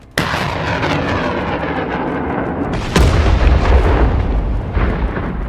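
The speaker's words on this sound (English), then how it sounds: "scoring a direct hit on the ammunition and creating a massive explosion that wiped out the system" A huge, loud explosion of ammunition from a HIMARS strike on a weapons system, a sudden boom followed by sustained roaring rumble and a second heavy blast.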